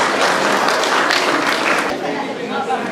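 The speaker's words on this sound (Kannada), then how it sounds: "ಎಲ್ಲರೂ ಅವರಿಗೆ ದೊಡ್ಡ ಚಪ್ಪಾಳೆಯೊಂದಿಗೆ" An audience at a felicitation ceremony claps loudly and steadily, mixed with some murmuring, then the applause eases off toward the end.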